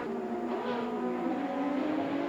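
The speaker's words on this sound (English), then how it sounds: "you can see I was blipping the throttle there" Ferrari 335S Scaglietti racing at Imola in Assetto Corsa, its engine droning steadily with quick throttle blips that briefly swell the exhaust note, loud and continuous without speech.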